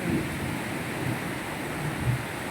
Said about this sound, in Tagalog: Sa sobrang init, biglang umulan.